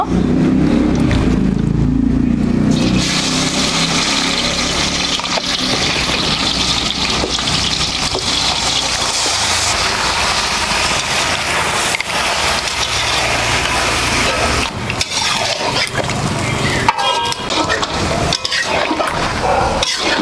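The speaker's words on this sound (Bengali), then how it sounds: "পেঁয়াজ বাদামি হয়ে গেছে এবারে দিয়ে দেবো মাংস" Mutton tipped into browned onions in a pan for a traditional curry sets off a loud, steady broadband sizzle that runs continuously with no talking.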